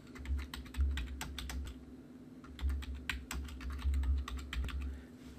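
Keys clatter on a computer keyboard in quick bursts of typing, separated by a short pause, close and fairly quiet with a low steady hum underneath and no voices.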